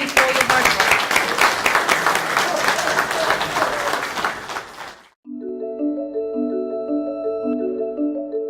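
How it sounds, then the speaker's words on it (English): Audience applause at a community participatory budgeting event in East Ayrshire, loud and dense for about five seconds, then cutting off abruptly into a short melodic musical jingle. "a round of applause to you for your hard work."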